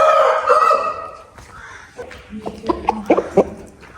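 A rooster crows once near the start, loud and close, followed by quieter scratchy clucks and short calls.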